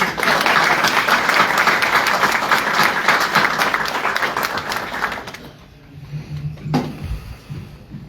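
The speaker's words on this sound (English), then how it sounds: "Anthony, stand up and get some claps, man." A room full of people applauds a coach at a county commissioners meeting, with dense clapping that holds strongly for about five seconds before dying away into near quiet, followed by a brief low murmur.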